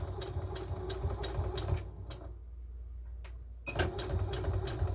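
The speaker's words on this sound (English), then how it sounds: "you want to make sure that you back stitch when you start out" Sewing machine back stitching on bunting fabric, a steady mechanical whir running close and loud, breaking off briefly in the middle before resuming.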